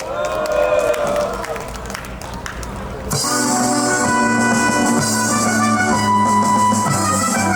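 Applause and crowd noise at an outdoor construction workers' rally at Suwon Station swell into a loud, steady wash of clapping, continuing to the end over a bed of background music.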